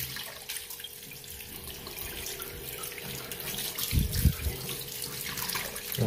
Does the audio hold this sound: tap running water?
yes